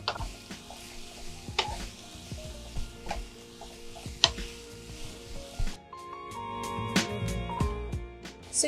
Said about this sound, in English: Give this a mix, and we're going to cook these down till they're nice and wilted